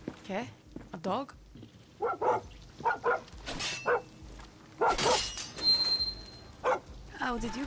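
A dog in Far Cry 6 barks and yips repeatedly in short, close bursts, mixed with a crash and a voice talking in between.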